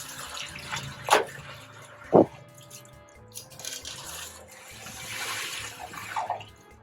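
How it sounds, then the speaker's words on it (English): Water splashes and pours into a basin of plastic grooming brushes and detergent in a few short gushes, with quieter trickling and dripping in between. "now that we've added our detergent, we can add water"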